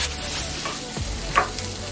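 Asparagus, onion and mushrooms fry in a pan with salmon, giving a soft, steady sizzle with a brief stirring scrape partway through and no voices.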